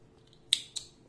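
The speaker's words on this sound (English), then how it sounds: "and cutting the yarn" Two quick scissor snips cutting through crochet yarn, close and crisp, the second following shortly after the first against a quiet background.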